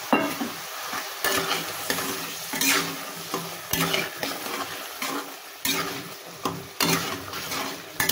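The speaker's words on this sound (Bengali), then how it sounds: "মশলাটা হয়ে গেলে আমি আমার এই পটল, এই ভিজে রাখা পটল দিয়ে দিলাম।" Soaked pointed gourd hits hot spices in a pan and fries with a steady sizzle while a utensil scrapes and clatters against the metal in irregular stirring strokes, close and alone.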